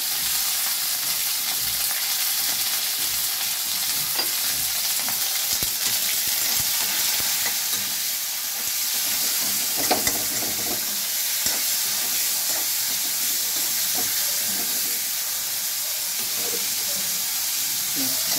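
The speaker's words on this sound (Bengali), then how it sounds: "এবারে দেবো আমি উচ্ছেগুলো ভাজবো" Bitter gourd frying in a pan for shukto, a loud continuous sizzling hiss throughout with occasional stirring knocks, close up and unbroken.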